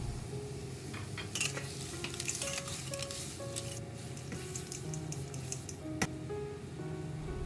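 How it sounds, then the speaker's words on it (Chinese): Prepared side dishes stir-fry in a wok with a splash of cooking wine for seafood taro noodles, giving a steady close sizzle broken by scraping stirs and occasional metallic clinks of a utensil against the pan. "先准备好的配菜先下锅炒"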